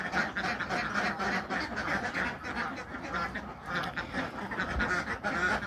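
Laying ducks on a duck farm quack loudly and continuously at close range, many birds calling over one another in a dense, raucous chorus.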